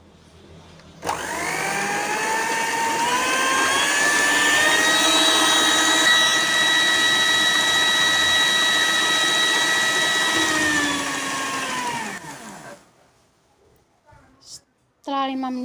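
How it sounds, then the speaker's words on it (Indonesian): An electric hand mixer beats banana cake batter with a loud, steady whine that starts abruptly, holds for about eleven seconds with slight pitch shifts, then stops, followed by a few soft clicks. "Lalu kita mixer kurang lebih"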